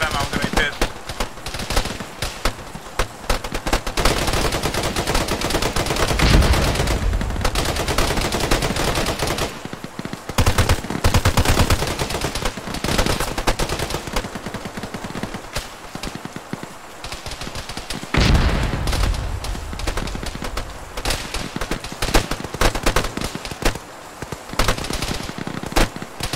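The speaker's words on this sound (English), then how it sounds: "I basically told all of them to just keep shooting" Close, sustained squad gunfire in the video game Arma, with rapid automatic bursts and single shots overlapping in a dense rattle, broken by a few short pauses, while players talk over it.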